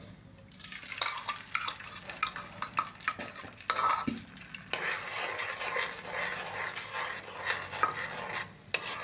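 Beaten eggs fry in hot desi ghee over a low flame for choori, a steady sizzle under repeated stirring and scraping with clinks of a utensil against the pan, with no talking.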